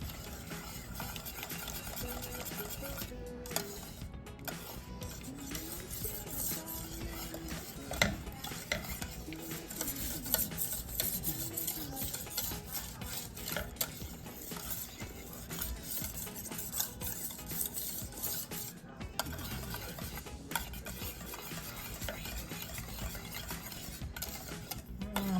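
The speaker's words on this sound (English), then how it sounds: "Stir it in, it says. I guess get that butter melted and everything incorporated." A spoon steadily stirs lemon pie filling with lemon zest and melting butter in a pot on the stove, making continuous close scraping and clinking with a soft sizzle beneath.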